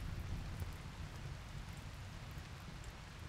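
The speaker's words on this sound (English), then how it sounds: "It's raining" Rain falling in the colony-building game RimWorld, a soft, even patter that holds steady and fairly quiet throughout, with no other sounds.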